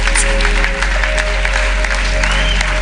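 A church congregation applauds, steady loud clapping from a crowd filling the whole stretch.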